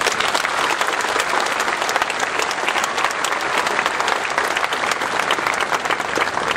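Loud, dense applause from a political rally crowd on Réunion, sustained and even throughout with many hands clapping close by and no letup.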